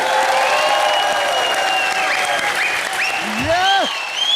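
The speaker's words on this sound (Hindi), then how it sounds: "Superstar Sunil sir, Raveena ma'am और सुखविंदर जी के लिए जोरदार तालियां हो जाए।" Loud, dense applause from a comedy show's studio audience fills the room in a steady unbroken wash, with whistles and shouts rising over it.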